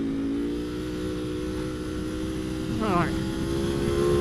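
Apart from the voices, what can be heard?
Ducati Panigale V4 SP2 motorcycle engine revving while short shifting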